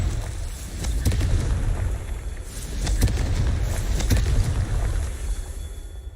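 A Confringo spell blast in Hogwarts Legacy, heavy rumbling booms with sharp impact cracks around one, three and four seconds over a sustained low roar, loud and close, with no talking.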